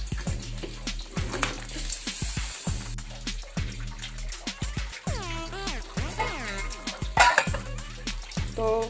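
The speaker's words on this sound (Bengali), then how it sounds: "আমার জলটা গরম হয়ে গেছে, আমি এখন এই জলে বসিয়ে দেব" A steel bowl of mustard hilsa is set into boiling water to steam, clattering metal knocks and scrapes over a steady bubbling, sizzling kitchen hiss, close and busy with repeated clanks.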